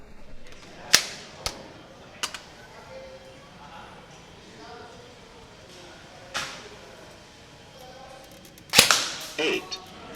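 An Elite Force MP7 A1 airsoft electric gun fires single snapping shots at irregular intervals, with a denser burst of impacts near the end, under quiet background noise and occasional talk.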